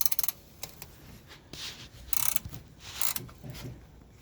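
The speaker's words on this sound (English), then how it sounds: "now we're using a 25mm wrench to do the top bolts" Ratchet wrench turning the top bolts of a Range Rover Sport front air shock, quick bursts of close metallic clicking that come in short runs with brief pauses between them.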